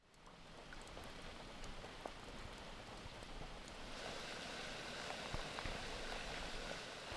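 Steady rain falling in a rural Chinese village in mountain country, a soft continuous hiss with scattered drops that swells slightly louder partway through, with no voices.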